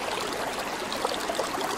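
River water rushes at the confluence of the Lampir and Terong rivers on the Batang–Kendal border in Indonesia, a steady close broadband babble of flowing water with no voices.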